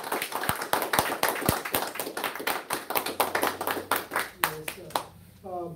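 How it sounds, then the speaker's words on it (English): A small audience at a temple service gives a round of applause, loose sharp claps from a few people close by that thin out and stop, with a voice speaking at the end. "Let's get our round of applause."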